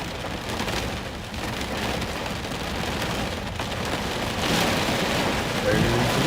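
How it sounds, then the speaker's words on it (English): Rain arriving during a storm in tornado-risk country, a dense steady hiss of drops on surfaces that swells slightly toward the end, with faint talk underneath. "The rain ought to be coming up any second."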